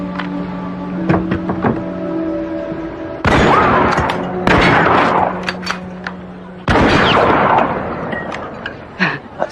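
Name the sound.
gunshots from sharpshooting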